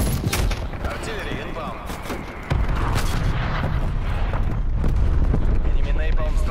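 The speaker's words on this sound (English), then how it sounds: "Artillery targeting detected." Black Ops Cold War artillery strike lands as a dense, loud barrage of overlapping booms and blasts that rumble continuously, with a heavier impact midway and the roar staying up through the end.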